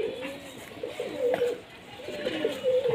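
A Giribaz flying pigeon cooing up close, two soft rolling coo phrases a second or so apart over quiet background, no talking.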